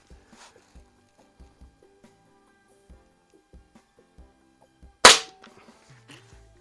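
A single sharp, loud shot from a Crosman 3622 air gun rings out near the end, standing out against quiet clicks and faint handling noise.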